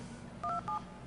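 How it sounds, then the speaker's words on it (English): Two short DTMF tones from a softphone dialing into a conference call, clean electronic beeps in quick succession over a low background hum, with no voices. "So basically, I'm going to ping a computer using just DTMF tones."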